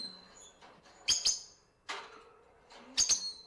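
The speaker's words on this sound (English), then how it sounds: "We have to feed these little birds so often, otherwise they become very noisy." Small pet birds in a cage chirp in a few sharp, high bursts separated by brief pauses, fairly close and moderately loud over a quiet room.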